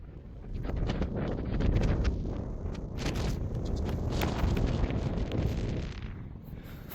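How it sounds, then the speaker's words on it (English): Strong, steady wind gusts across an open ice field in Alaska, roaring and buffeting the microphone throughout with a constant rumble that swells and eases. "It's incredibly windy, very windy."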